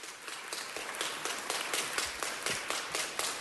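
An audience claps for Sierra, a steady run of fairly quiet, evenly paced hand claps from a modest crowd at a gathering, continuing throughout.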